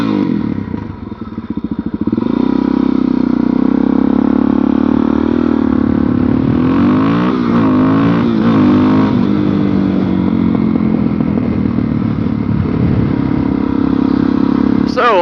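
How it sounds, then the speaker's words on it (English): A Suzuki DR-Z400SM motorcycle engine idles loudly nearby and then revs up and down through its exhaust, a throaty, continuous rumble with clattering mechanical noise. "And that exhaust, man, it sounds good."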